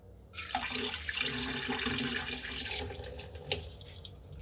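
Water runs steadily from a tap into a metal pot of lentils, a continuous rushing splash with a faintly rising, hollow tone as it fills.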